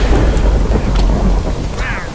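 Lightning thunder in the Minecraft video game, a loud sustained rumble with rain-like hiss filling the whole moment and a few faint higher ticks on top.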